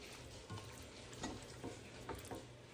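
Beef browning in a stew pot sizzles and fries softly and steadily, with a few quiet stirring scrapes over the low hiss.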